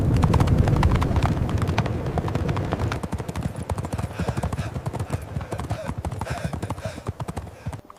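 Horse hooves gallop fast in a race along a path, a dense rapid clip-clop that starts amid a low rumbling roar and then sharpens into distinct quick beats.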